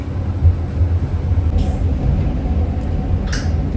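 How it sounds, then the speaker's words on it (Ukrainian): Steady low rumble inside a tram in Prague with rattling hum and a couple of brief high hisses, no talking. "Їдемо в трамвай."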